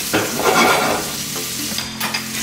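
A steak sizzles loudly in a hot pan, cooking toward medium rare. The close, crackling spatter runs continuously for a few seconds with small bursts, and nobody speaks.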